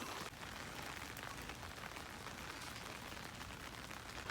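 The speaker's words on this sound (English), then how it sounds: "it's raining" Rain falls steadily on a rainy autumn day, a faint, even hiss with no voices.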